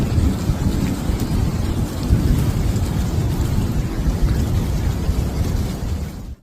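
A severe Chicago thunderstorm with winds up to 130 km/h brings loud, steady heavy rain and deep rumbling thunder, a dense roar that fades at the end.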